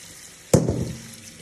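Tap water splashes over blanched beef bones as they are rinsed, a sudden close splash followed by a short burst of running water that fades out.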